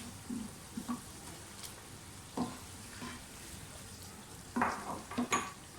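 Chicken being sautéed with softened tomatoes and spices for palak gosht, a quiet sizzle broken by scattered spoon scrapes and pan clinks, several bunched near the end.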